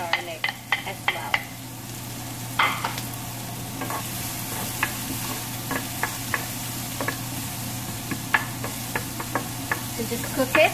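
Garlic and red onion sizzle steadily in a pan, a soft continuous frying hiss broken by repeated sharp clicks and scrapes of a utensil stirring, close and fairly quiet.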